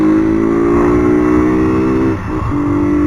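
A motorcycle engine runs loud and close at a steady, buzzing pitch, dipping briefly near the end before picking back up.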